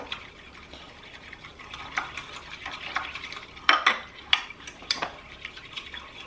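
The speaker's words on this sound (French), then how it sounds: "La cuillère magique, c'est ce petit fouet ici." A small whisk stirs cold milk in a bowl, giving soft, continuous swishing with a few sharper clinks of the wires against the bowl's side toward the end, close and alone.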